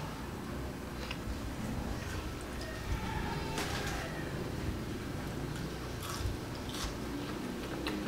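Crunchy breaded chicken milanese, also called chicken katsu, being bitten and chewed close up, with several crisp crunches standing out over a steady low background and no talking.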